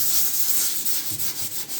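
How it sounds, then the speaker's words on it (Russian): Sandpaper rubs steadily across the surface of an old wooden desk in continuous back-and-forth strokes, a close, dry, hissing scrape with no pauses. "Так, наждачка. Шлифуем поверхность стола."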